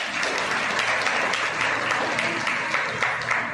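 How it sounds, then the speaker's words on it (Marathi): An audience of parents at a school gathering applauds steadily: dense, continuous clapping from many hands fills the room at an even level throughout. "तुम्ही स्वतःसाठी टाळ्या वाजायच्या आहेत"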